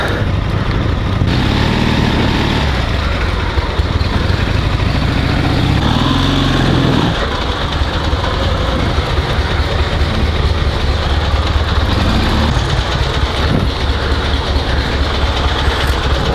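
A sidecar motorcycle engine runs steadily in reverse gear, a loud continuous mechanical drone with rhythmic rumbling pulses close by, and no talking.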